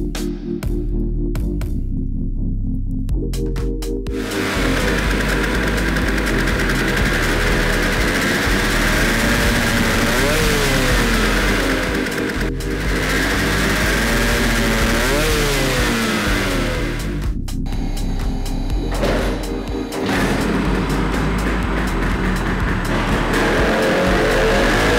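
A Vespa PX scooter engine, tuned with a changed CDI ignition, revs loudly and continuously on a dyno bench, holding a steady high drone with pitch sweeps and a few brief dips in throttle.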